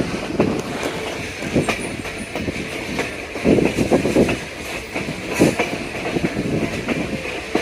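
A Great Smoky Mountains Railroad train crosses the 777-foot Fontana Lake trestle, rumbling steadily with rhythmic clattering wheels and metallic rattles, loud and continuous throughout, with occasional sharper clanks.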